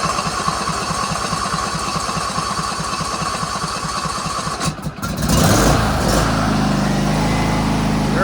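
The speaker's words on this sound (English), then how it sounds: "Anyway, let's see if it starts." A Briggs and Stratton V-Twin engine with a newly replaced carburetor, choked, cranks in a steady rapid pulsing rhythm for about five seconds, then catches and settles into a loud, continuous running roar close by.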